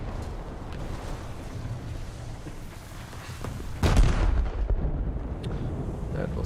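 Naval gunfire from boats in a video game, a dull continuous rumble of distant cannon fire punctuated by one loud heavy boom near the middle, followed by lingering rumbling.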